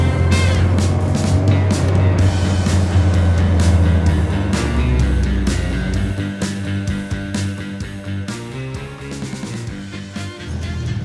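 A car engine runs and pulls away, its loud steady hum shifting pitch as it gets going, with clatters and knocks over the engine noise.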